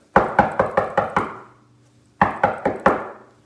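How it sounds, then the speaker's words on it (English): Knuckles rap on a Chinese farmer's wooden door: a crisp run of five even knocks, a short pause, then four more, loud and close with nothing else heard. "there's a knock on the Chinese farmer's door"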